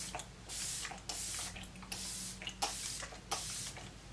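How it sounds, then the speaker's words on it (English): Makeup setting spray misted in repeated short bursts, about six or seven close hissing sprays with brief pauses between them and no talking. "I feel like you have a lot of control over where the spray goes."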